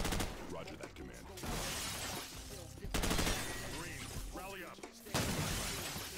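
TVs being shot and shattered in Call of Duty 4 during a TV station mission, with loud bursts of gunfire and breaking glass in several crashing waves, mixed with game voices and sound effects.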